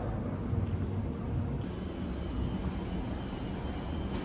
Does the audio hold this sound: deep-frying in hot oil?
no